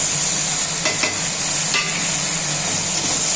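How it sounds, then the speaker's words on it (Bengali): Ginger-garlic paste and chopped tomato fry in a pan with prawns being cooked, a loud continuous sizzle with a few brief clinks of stirring. "এবার এটাকে লাল লাল করে ভেজে নিতে হবে"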